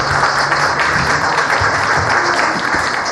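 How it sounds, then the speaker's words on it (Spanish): Dense, steady applause from a crowd, continuous and fairly loud for the whole stretch, with no talking. "Pedimos un fuerte aplauso más para ella"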